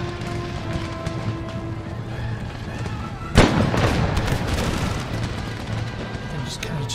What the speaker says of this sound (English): Cannon shot those dervishes, please.